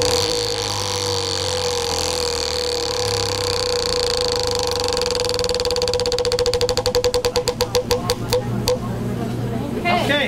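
A prize wheel spun at a 40th anniversary agent drawing, its rapid clicking of the pointer slowing gradually to a stop over a steady background hum.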